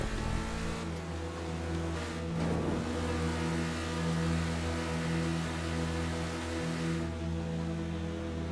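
Car engine revving in GTA V, a steady mid-pitched engine drone with layered harmonics holding near constant, with a brief surge around the middle.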